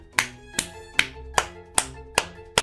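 A single person claps seven times in a steady, evenly spaced rhythm, each clap sharp and nearby over near silence.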